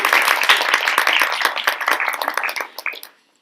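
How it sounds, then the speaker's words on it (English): An audience at a roundtable event claps for about three seconds, a dense patter of hands that thins out and stops abruptly. "Round of applause, please."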